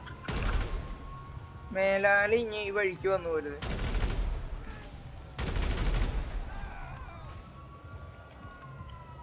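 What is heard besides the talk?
gunfire in a video game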